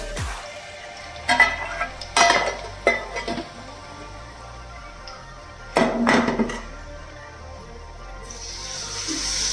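A spice tempering of oil, masala and turmeric cooking in a pan: a steady low sizzle broken by a few clattering stirs and scrapes of a utensil against metal, with no one talking.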